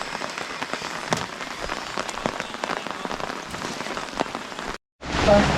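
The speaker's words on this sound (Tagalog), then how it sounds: "Hanggang ngayon, kinabukasan, umuulan pa rin." Rain falling steadily in Sagada, dense patter of drops on surfaces with sharper close splashes, continuous until a brief cut near the end.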